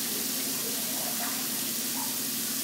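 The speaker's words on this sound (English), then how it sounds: "You're putting water in there." Water running into a bathtub: a steady, hissing rush of water pouring continuously throughout, fairly close and even in level with no talk over it.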